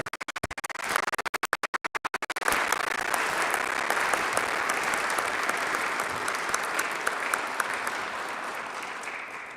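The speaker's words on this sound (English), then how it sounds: "join me in a warm round of applause" A crowd breaks into a warm round of applause at a mid-term city inauguration ceremony, with a few sharp isolated claps first, then dense, sustained clapping filling the room and holding steady throughout.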